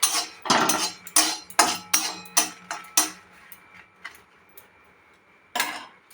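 Whole spices stirred one at a time in a dry, oil-free pan, giving a run of sharp metallic clicks and scrapes at an even pace that thin out, then one last clink after a pause.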